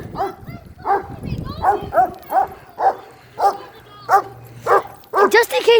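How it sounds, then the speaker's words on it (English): A dog barks repeatedly behind a fence in a park, a steady run of close, sharp barks over about six seconds, with faint bicycle noise beneath. "Just in case that dog can hop that fence."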